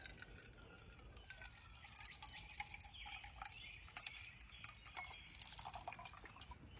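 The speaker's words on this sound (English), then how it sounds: "and you let the water flow." Water runs from a hanging water filter down into a bucket, a soft steady trickle with scattered drips, faint and close, with no talking.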